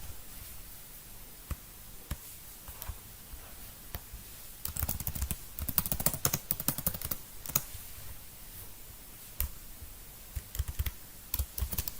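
Computer keyboard being typed on to enter a Terraform command, scattered clicks building into a dense flurry of keystrokes in the middle, then sparse taps, fairly close and quiet.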